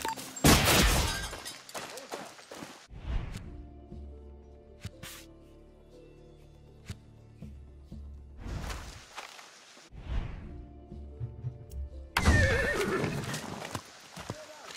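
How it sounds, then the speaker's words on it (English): A horse in the Far Cry 6 video game neighs loudly in short whinny bursts, with clip-clop hoofbeats, whooshes and gaps of quieter ambience between, ending in another close, strong neigh. "Hey, a magic horse."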